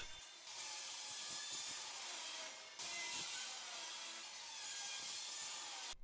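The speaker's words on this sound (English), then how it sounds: "I'm going to cut up some box section steel" Box section steel is cut with a steady, continuous grinding rasp that carries on throughout, pausing only briefly halfway before resuming at the same even, fairly distant level.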